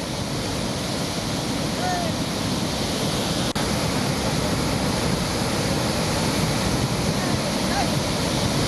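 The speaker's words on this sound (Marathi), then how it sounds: "अजिंठा लेणीतल्या सातकुंड धबधब्यातील हे दृश्य आपण पाहतोय" Satkund waterfall at the Ajanta caves, swollen by monsoon floodwater, roars as a steady, dense, unbroken rush of falling water, loud and enveloping throughout, with no voices over it.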